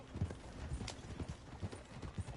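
Horse hooves clip-clop in Red Dead Redemption 2, a steady rhythmic trot of soft, close hoof falls with no talking.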